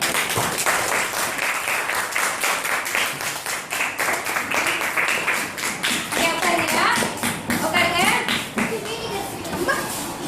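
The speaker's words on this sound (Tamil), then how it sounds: "உங்க எல்லாத்துக்கும் ஒரு பலத்த கைத்தட்டு" A classroom of students clapping loudly and rapidly, a sustained patter of many hands, with children's voices and chatter mixed in during the latter half.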